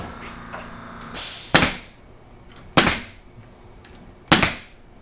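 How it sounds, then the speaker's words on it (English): A staple gun fires staples into wood three times, each a loud sharp snap with a brief hissing tail, separated by quiet gaps of roughly a second or more, with no speech. "And you can actually shoot a staple in here at an angle."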